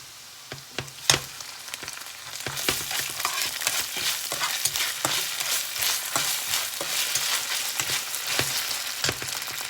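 Ginger frying in a pan for chicken biryani, giving a steady close sizzle with sharp clicks and scrapes of stirring scattered throughout.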